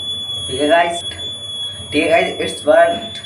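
A homemade water level alarm gives off repeated harmonic buzzing tones as a water tank fills, sounding in three bursts with a steady high whine running through the whole stretch.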